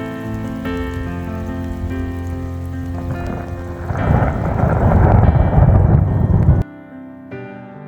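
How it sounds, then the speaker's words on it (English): Steady rain falls on a garden, with a low rumble of thunder building midway into a loud, dense downpour before dropping back to a lighter patter near the end. "Still raining."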